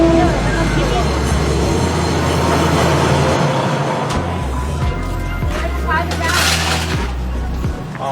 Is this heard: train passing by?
yes